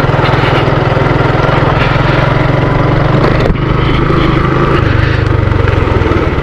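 A motorbike engine hums steadily and loudly while riding a rough rural track toward a cave trail near Chaiturgarh in Korba, Chhattisgarh, with a brief dip in tone partway through.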